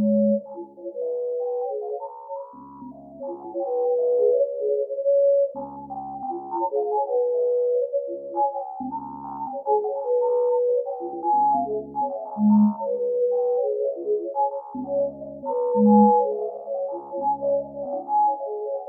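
Synthesized tones play star positions mapped across the globe as a melodic sonification, with overlapping pitched notes and periodic low pulses in a steady, continuous sequence.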